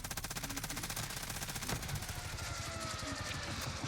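Rapid machine-gun fire in the Warzone video game shooting down an aircraft, a dense, unbroken burst of closely spaced shots, loud and continuous.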